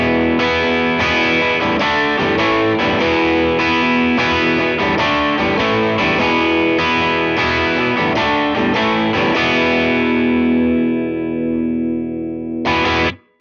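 An electric guitar played through a Strymon Iridium amp modeler set to a crunchy overdrive, with loud sustained distorted chords strummed steadily and a final chord ringing out before a short closing strum, with no voices.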